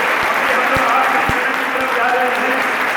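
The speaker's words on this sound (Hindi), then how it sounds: "तालियों में वजन होना चाहिए।" A crowd at a college alumni-parents gathering applauds the economics department, a loud continuous clapping wash with a few sharp, separate claps standing out and murmuring voices underneath.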